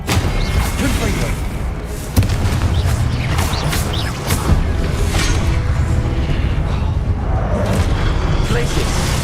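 Spell blasts and booms from the Hogwarts Legacy video game as Confringo is cast, with dense repeated thuds and crashes over continuous battle noise, loud throughout, while a voice shouts spell names over the combat.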